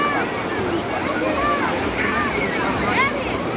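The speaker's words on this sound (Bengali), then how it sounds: "সাগরের বিশাল বিশাল ঢেউ আছড়ে পড়ছে" Large sea waves crash on the shore in a constant roaring wash, with rain falling and people at the beach. Scattered high cries and voices rise above the surf.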